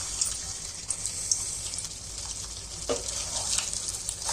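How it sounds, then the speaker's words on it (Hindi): Nargisi kofta fry one at a time in oil previously used for frying onions, giving a continuous hissing sizzle with light crackles and occasional spatula movements nearby. "अब एक एक कोफ्ता लेना है और इस तरह से उठाते हुए फ्राई करेंगे"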